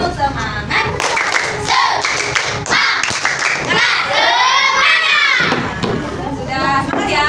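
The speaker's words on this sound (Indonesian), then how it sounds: "Sekarang kita ini tepuk semangat." Schoolchildren in a classroom clap in quick rhythmic bursts for the spirit cheer tepuk semangat, their lively voices chanting and calling out loudly over the claps.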